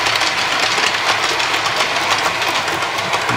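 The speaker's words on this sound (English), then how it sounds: "here comes the 9F with the iron ore train" A model 9F steam locomotive hauling an iron ore train runs past close by on a layout, loud and steady, with a dense rhythmic rumble and rapid clicking of wheels over the track.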